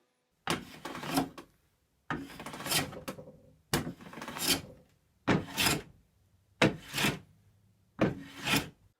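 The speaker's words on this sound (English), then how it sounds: "I need to do some planing here to fix that problem" Six long hand-plane strokes rasp across the laminated wood of an antique table, each a close, loud scraping pass separated by short pauses.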